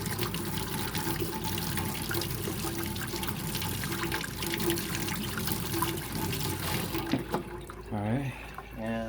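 Hot water runs steadily from a tap for most of the clip, a continuous splashing hiss that cuts off near the end, followed by a brief voice.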